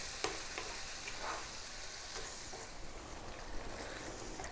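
Tomatoes cooking down over lively heat for a lamb potato curry make a low, steady bubbling sizzle. Occasional soft stirring scrapes rise above it.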